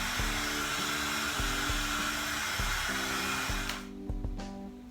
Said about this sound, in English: heating gun, so I can dry the surface a little bit